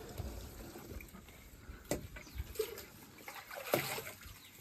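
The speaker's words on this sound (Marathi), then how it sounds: "आता सध्याला आपलं पाणी वताच चालू आहे काम." Water pours and splashes into a tub outdoors in a rural setting, a faint, uneven trickle with a few louder sloshes, heard alone at low volume.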